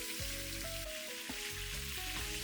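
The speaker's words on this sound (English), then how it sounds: "Into the same oil, add the rest of these beef back ribs." Beef back ribs sear in hot oil in a pan, giving a steady, close sizzle and crackle that runs throughout, with tonal music playing underneath.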